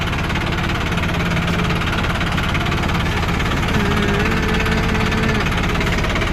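A tractor engine runs at a steady idle, a loud, constant low rumble with even mechanical vibration throughout and no voices.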